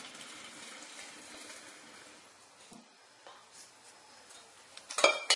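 Homemade laundry soap mixture pours steadily into a 2.5 gallon container, a soft continuous watery rush that ends with a sharp clunk of the vessel near the close, with no talking.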